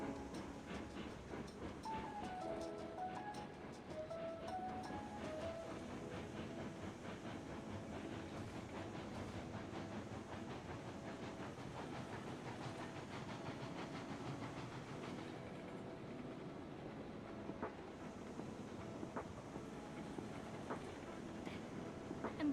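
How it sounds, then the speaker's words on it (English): Train running on rails in a video game, a steady continuous rumble with faint rhythmic clatter and hiss, heavily loaded with freight, playing throughout at a moderate level with no talking. "This train's gonna be hauling so much weight."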